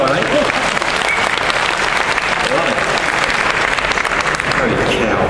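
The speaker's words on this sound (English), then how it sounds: "A round of applause for that one, eh?" Sustained applause from a crowd, dense steady clapping that continues evenly from start to finish without pause.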